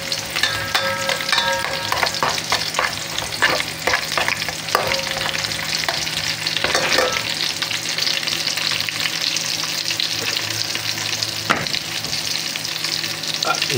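Garlic sizzles and fries in a hot pan while being stirred, a steady crackling hiss with occasional scraping clinks of the utensil, close and continuous for the whole stretch.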